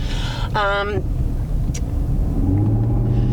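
A 2019 Chevrolet Camaro accelerating: a loud, close engine rumble with one quick rising and falling rev early on, then a steady low drone with a faint rising tone near the end.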